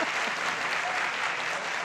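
A dense crowd applauds throughout a talk-show taping, the clapping loud, even and continuous, with no break.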